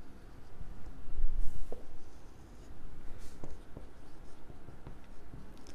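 Pen writing on paper during a class 10 algebra lesson, faint scratching strokes and taps at close range, soft and intermittent with quiet room noise between strokes.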